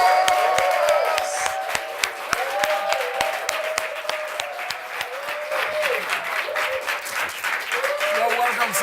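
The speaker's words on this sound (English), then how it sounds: "Please, a round of applause." A studio audience applauds a guest arriving on a television talk show, with sustained, dense clapping from a crowd close by, while voices and what seems to be music carry on underneath.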